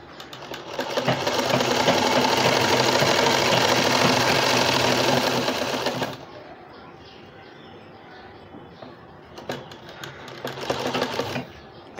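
Sewing machine stitching wide lace along the edge of a newborn baby dress, running loud and continuous for about six seconds, then quieter with a brief final burst near the end.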